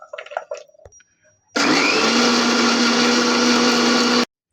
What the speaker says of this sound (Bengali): এটা আমরা এখন মিক্সিয়ে দিয়ে বাটবো